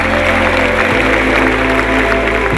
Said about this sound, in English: Let's give a big hand to all those who said kids.